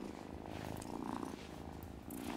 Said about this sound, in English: Sound of purring.